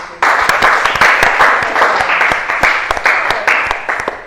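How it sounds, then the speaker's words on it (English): An audience applauds students after an engineering debate, a crisp burst of many hands clapping with distinct sharp claps standing out, starting abruptly and holding steady for several seconds. "I think a round of applause"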